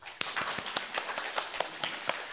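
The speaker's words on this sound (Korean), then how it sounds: "우리 김 목사님 안 계시니까 박수 한번 쳐주자" A small church congregation claps during a Sunday worship service, a sparse, uneven patter of individual hand claps, moderately close and not very loud.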